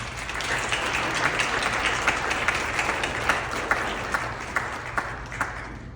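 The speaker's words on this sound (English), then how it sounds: "Let's give him a round of applause." An audience applauds at an MLK celebration program, with continuous clapping and sharper individual claps standing out as the ovation goes on and slowly thins toward the end.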